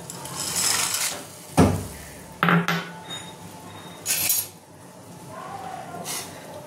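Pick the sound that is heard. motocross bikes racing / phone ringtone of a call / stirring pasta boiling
stirring pasta boiling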